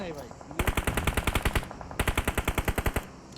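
Automatic gunfire in PUBG Mobile, two loud rapid bursts of evenly spaced shots, each lasting about a second, with a short pause between them and a softer shot before the first burst.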